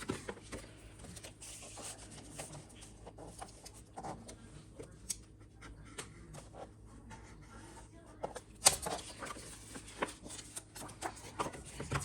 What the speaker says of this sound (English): I'm gonna make my 1/2-inch score so this can sit underneath.